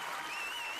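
A short burst of steady applause from an audience, dense clapping filling the moment without gaps.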